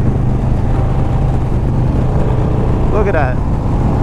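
A 2022 Harley-Davidson Road Glide ST bagger idles with a steady, loud low rumble throughout, while a person speaks briefly over the engine near the end.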